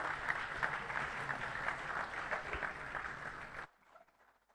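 Audience applause fills a conference hall, a dense steady clapping that carries on loud for several seconds, then cuts off abruptly and leaves only faint room noise.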